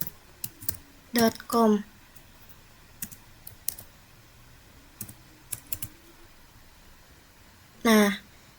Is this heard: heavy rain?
no